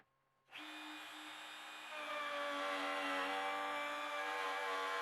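A wood router with a jig spins up after a brief silence and settles into a steady, whining drone, growing a little louder as it cuts a dado into the wood. Nearby and continuous, with no talking.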